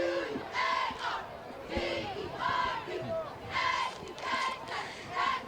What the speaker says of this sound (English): Cheerleaders cheering out there.